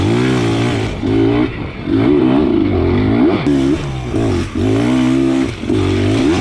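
A 2021 Beta 300 RR dirt bike engine pulls hard in second gear, revving up and down in repeated surges with brief throttle dips between, loud and close with no voices.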